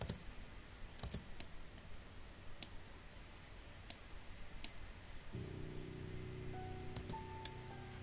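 Computer mouse clicking while working in Marvelous Designer, sparse sharp clicks scattered over several seconds, quiet and close, with a faint low electronic hum joining partway through.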